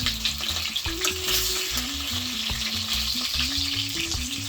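Salmon sizzles steadily in a hot pan for a Jamaican-style fish dish, a close, continuous crackle layered with low rhythmic thumps that sound like music playing in the background; no voices.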